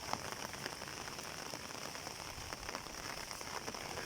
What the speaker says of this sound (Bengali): কখনো গুড়ি গুড়ি বৃষ্টি, এভাবে বৃষ্টি হয়ে যাচ্ছে।